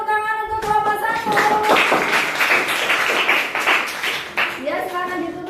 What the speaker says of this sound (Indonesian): kasih tepuk tangan untuk kelompok 1.